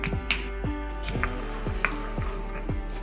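Green chillies are crushed in a small mortar and pestle, with steady rhythmic pounding of about two thuds per second, close and clear over a constant low hum.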